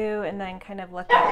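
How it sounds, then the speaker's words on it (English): A pet dog barks indoors, a burst of sharp barking at the end following a stretch of a person speaking nearby. "Sorry, that was my dog."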